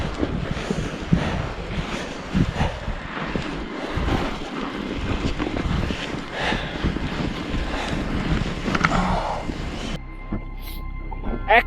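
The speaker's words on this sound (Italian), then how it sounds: "C'è un vento pazzesco, ma finalmente è arrivato in cima." Strong winter wind roars and buffets the microphone at the Thorong La pass summit in the Himalaya, a loud continuous rush that briefly drops off near the end.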